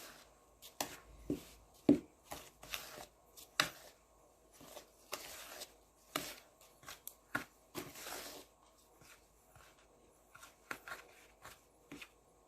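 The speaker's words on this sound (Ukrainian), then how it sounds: "Тепер все це добре між собою перемішуємо." Cake batter ingredients for a kefir cake being mixed in a bowl by hand, giving quiet, irregular scraping and tapping strokes in short bursts, close and soft, with no talk.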